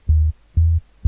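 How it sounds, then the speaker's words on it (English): A simple sub bass in an electronic FL Studio drop, deep sustained low notes pulsing in a steady rhythm, each held briefly then cut, loud and alone. "and a simple sub bass."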